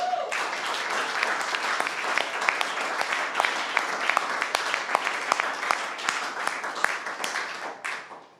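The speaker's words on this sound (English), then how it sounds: "can I get a big applause for our first pitcher of tonight?" An audience at a live show applauds a pitcher with a dense, steady round of clapping. Individual sharp claps stand out, and the applause tapers off abruptly at the end.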